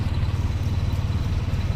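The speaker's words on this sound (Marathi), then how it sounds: "तर आता आम्ही रिक्षात आहोत" An auto rickshaw engine runs with a steady low throbbing putter and rattle during a ride, loud and close, with no voices.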